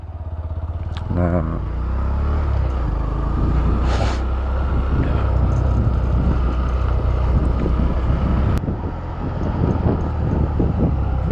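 Manual motorcycle engine revving outdoors as the clutch lever is released and the throttle twisted together, a steady loud drone with wind buffeting the microphone and a brief spoken word early on.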